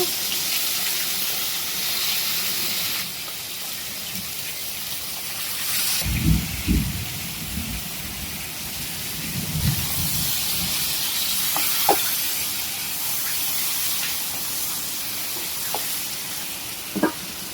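Tomatoes hit hot oil with frying onions for a Bangladeshi stinging catfish curry, giving a close, steady sizzle with a few louder spits and bursts of stirring.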